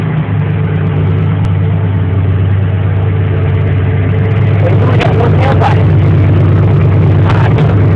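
A custom 5.0 turbo convertible sleeper car idles close by, a steady deep rumbling hum with a lumpy low pulse, joined by scattered clicks and rattles toward the end.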